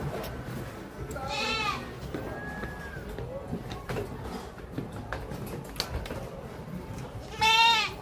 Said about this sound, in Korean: 오! 이거 뭐 염소다.